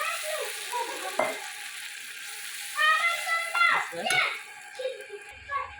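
Spice masala fries for tomato amti with soft sizzling and occasional stirring scrapes, heard beneath voices talking nearby, including what sounds like children.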